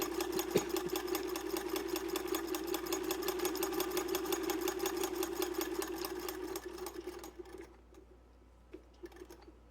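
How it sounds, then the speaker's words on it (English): A restored Singer 28 sewing machine on a hand crank stitches steadily with a fast, even mechanical clatter and hum, close and moderately loud, slowing and stopping near the end. "it's sewing really well"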